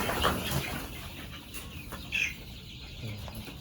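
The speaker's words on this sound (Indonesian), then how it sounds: "Nah ini sudah mulai iseng nih ayamnya." Free-range Sentul village chickens cluck softly in an outdoor yard, a few short calls scattered over steady background noise, with no talking.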